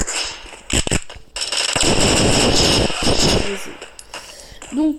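Grenade explosions in the mobile shooter Bullet Force burst out as loud, booming blasts with crackling tails, one long roar in the middle and sharper pops around it, with game sounds in between.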